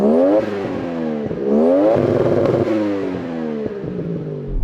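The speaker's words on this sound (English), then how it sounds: "How about the Toyota Chaser?" A Toyota Chaser's engine revs hard in a Gran Turismo drag race, rising and falling pitch sweeps repeating several times, loud and close with no talk over it.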